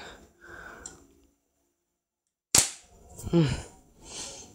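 An airsoft G.20 pistol fires a single sharp, close crack, set between stretches of quiet handling and soft breathing noises.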